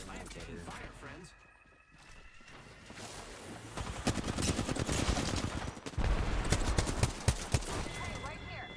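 Bursts of gunfire crackle through a video game shootout, rapid irregular shots building into dense volleys, fairly loud and close, while a voice speaks over parts of the action.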